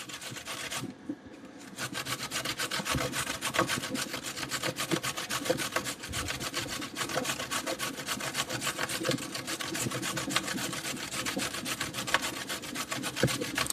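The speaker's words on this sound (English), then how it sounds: "And I use the coarse side as well. Give that a good grate." Vegetables for homemade coleslaw rubbed hard against the coarse side of a grater, a continuous close scraping rasp in quick repeated strokes, fairly quiet and with no talking.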